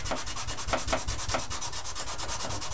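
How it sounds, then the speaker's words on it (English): A small plastic model piece for a service station kit is rubbed lightly on sandpaper in quick, even back-and-forth strokes, a close, soft, rhythmic scratching that continues without pause. "when you're sanding, like I said, you don't want to get too aggressive, so sand lightly"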